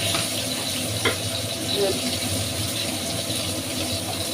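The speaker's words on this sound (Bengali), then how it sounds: "এই পিঠটা কিছুক্ষণ ধরে আমি ভেজে নেব" Hilsa fish frying in oil in a pan, a steady dense sizzle that runs loud and continuous from start to finish, with brief stirring clinks near the start.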